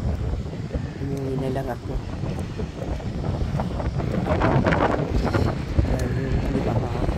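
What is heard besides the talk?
strong wind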